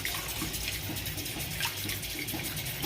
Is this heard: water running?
yes